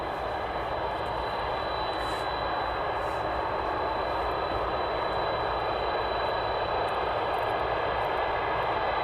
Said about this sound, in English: Next aircraft on approach.